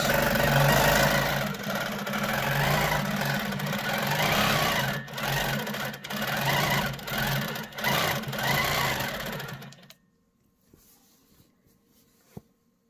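A long arm quilting sewing machine stitching at a fast, even needle rhythm for about ten seconds with brief pauses, then stopping, leaving near silence.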